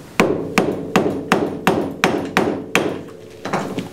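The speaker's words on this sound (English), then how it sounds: "You could either just take a hammer and bang it down or take a screwdriver." Repeated hammer blows bending down the axle nut tab on a Yamaha Grizzly 660 ATV during wheel bearing work, about nine sharp metallic strikes at a steady pace, close and loud, with no talking.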